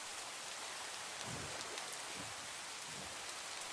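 Steady Minecraft rain hissing evenly over open water, a soft continuous wash with faint low patters and no voices.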